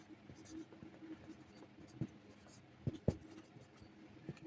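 A pen scratches out a math formula in short, quiet strokes with a few sharper taps, close and faint under soft talk.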